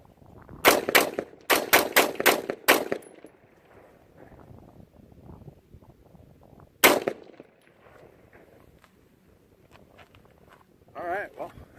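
Rifle shots fitted with a Comp ML-2 on a range with a red dot sight: a single loud crack, a fast string of four sharp shots, one more later, with faint quiet talk between them.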